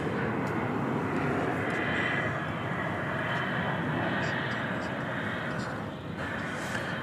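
An American Airlines Boeing 737-800 arrives at DFW Airport at night, a continuous distant engine roar holding steady with a slight dip near the end, a voice faintly mixed in.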